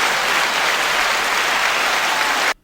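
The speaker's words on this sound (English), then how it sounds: "We got an applause." A crowd breaks into dense, loud applause that holds steady and then cuts off abruptly at the end.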